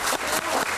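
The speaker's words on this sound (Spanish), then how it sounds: "Les pido a todo el estudio un aplauso para estas dos grandes reliquias de la canción." Loud studio audience applause on a television variety show, a dense burst of clapping with quick pulsing swells.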